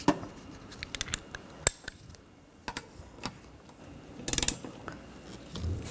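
Wiper arm nuts on a 2013–2019 Ford Escape are tightened with a hand tool. Sparse, close metallic ratchet clicks come in irregular bursts, with a quick rattle near the end, over a quiet background.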